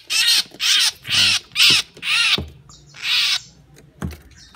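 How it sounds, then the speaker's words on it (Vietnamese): A caged songbird gives a series of loud, close, harsh calls in quick bursts, about six in a row, then a short pause and one clipped final note. "em giới thiệu sơ với cái con chim này cho các anh xem nhé"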